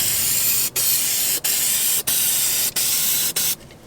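Eastwood Rust Encapsulator sprayed from an aerosol can over surface rust in five long, steady hissing bursts, each cut by a brief pause, loud and close with no talking.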